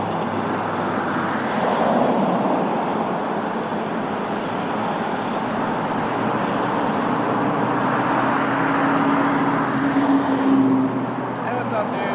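Road traffic rolls past in a continuous roadside wash, with a louder swell of a passing vehicle near the end and a person talking over it.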